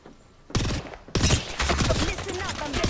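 Rapid gunfire in Apex Legends, with a burst of close shots followed by a loud sustained exchange of fire mixed with clattering game effects.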